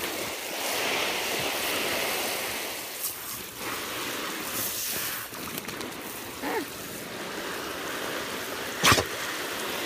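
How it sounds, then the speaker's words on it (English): Water rushing steadily as a backyard pool is filled, a continuous splashing wash with a few brief bumps and one sharp knock near the end, no talk. "Holly, I'm trying to fill the pool"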